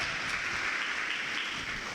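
A church congregation claps loudly together during worship, a dense, steady wash of applause filling the whole moment without a break.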